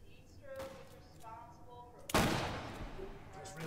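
In the VR shooter Hot Dogs, Horseshoes & Hand Grenades, set in a Wild West stage, a single loud rifle shot bursts out and rings off, following a moment of quiet talk and soft handling noises.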